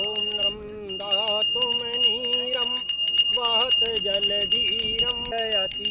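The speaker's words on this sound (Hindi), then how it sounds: "घंटी बजाकर पूजा करते एक पंडित भी नजर आ गए" A priest's hand bell rings during a Hindu puja in a tent on the Narmada riverbank, its bright, steady metallic ringing carrying through the whole stretch over chanting or music in the background.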